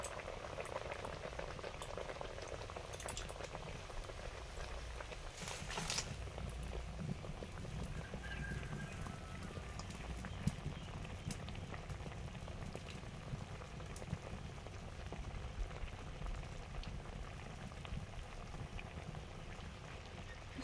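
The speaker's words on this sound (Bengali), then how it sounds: "নানপুরিটা ভেজে নিচ্ছি।" Nanpuri, a puffed flatbread, frying in hot oil: a steady, dense crackling and bubbling sizzle that runs evenly and close-up throughout, with no talk.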